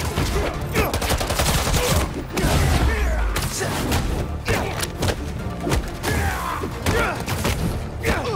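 Enemies open fire at Spider-Man in Spider-Man 2, with dense volleys of gunshots, thuds and crashing impacts layered over a busy action mix, loud throughout with brief lulls.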